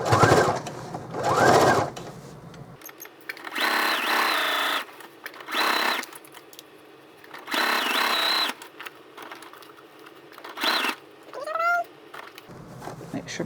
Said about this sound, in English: And do some back stitch.